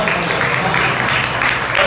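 Applause from the audience at a poetry open mic and kavi sammelan, a loud, even rush of clapping that carries on briefly with a voice faintly mixed underneath.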